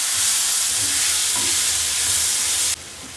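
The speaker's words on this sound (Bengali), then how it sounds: "টমেটোগুলো মশলা একসাথে ভালো মতো কষাতে হবে।" Tomatoes and spices frying together in a pan for a pea filling for kachori, a loud dense close sizzle with a faint stir in the middle, cutting off sharply near the end, no talk.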